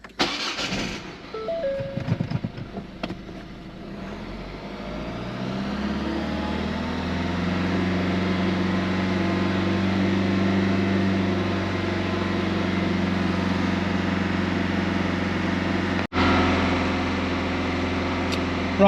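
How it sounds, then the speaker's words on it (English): A Mk3 Ford Focus TDCi diesel engine cranks and catches, then settles into a steady raised rev around 2,500 rpm that holds for a long stretch, droning loudly and evenly. "So I'm going to start it up, rev it for a couple of minutes"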